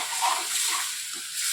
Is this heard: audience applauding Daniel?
no